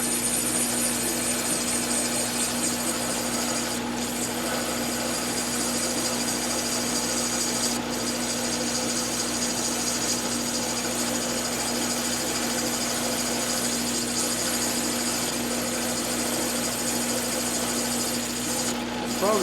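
A power tool cuts through a metal part for a homemade HDPE plastic injector, producing a continuous loud buzzing, grinding drone with a steady hum beneath it and a few brief sharp clicks over the whole stretch.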